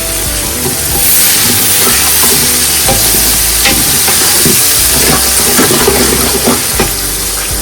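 Onions fry in oil in a pan, a loud, close, continuous sizzle with repeated scraping stirs and crackling pops, no voices.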